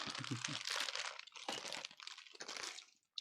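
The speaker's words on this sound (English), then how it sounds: "I'm chewing, and I'm gonna take the microphone off so you don't hear me chomping" Close crunching and chewing of food at a microphone, several crisp bursts in an uneven rhythm, fairly faint, with no talking.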